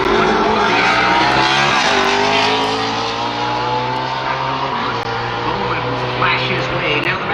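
A NASCAR Cup Series car, Alex Bowman's, runs a qualifying lap at ISM Raceway with a loud, sustained engine roar that shifts pitch as it passes through corners, and a commentator talks over it.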